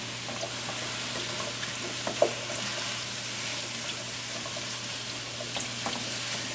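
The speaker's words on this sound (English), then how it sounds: "you should hear the mushrooms screaming." Mushrooms sizzle steadily in a hot dry pan, a soft continuous crackle with a few sharper pops and faint squeaks, with a low hum beneath.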